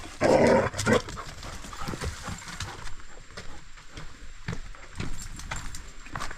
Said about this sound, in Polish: Jak tak groźnie warczysz.